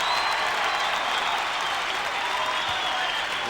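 A gym crowd roars and cheers steadily at a high school basketball game, Wadsworth versus Revere, loud and sustained with dense broadband noise and no break throughout.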